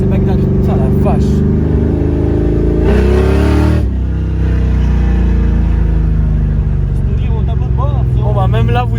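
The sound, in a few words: dragster car engine roaring with open exhaust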